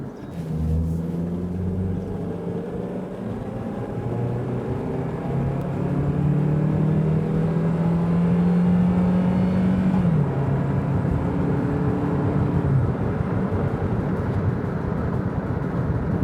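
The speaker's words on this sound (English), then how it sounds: "We're gonna rev it up pretty high and try and get it to switch gears" A 2003 Honda Accord, repaired after bucking and not shifting, revs high under acceleration with the engine note climbing steadily, then dropping sharply as the transmission shifts gear, amid a continuous road rumble with no talking.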